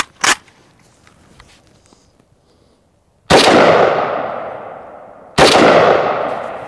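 An AK rifle fires 7.62x39 FMJ rounds at AR500 steel body armor outdoors. There are two loud, sharp shots about two seconds apart, each with a long echoing decay. A fainter pop comes earlier.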